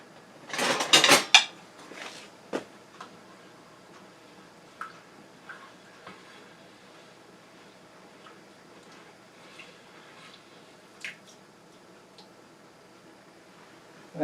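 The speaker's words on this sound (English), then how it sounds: "Okay, let's stir that up." A spoon stirs beef stew in a pot, opening with a loud burst of scraping and clanking, then settling into sparse light taps and clicks against the pot over a quiet background.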